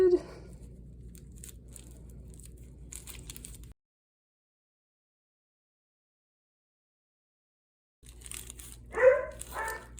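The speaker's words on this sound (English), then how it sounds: "Please excuse my dog barking in the background." A pet dog barks in the background while a bubble mailer is glued into a fabric junk journal cover. The barks come as a few brief, fairly distant bursts among quiet handling noises, with a stretch of silence between them.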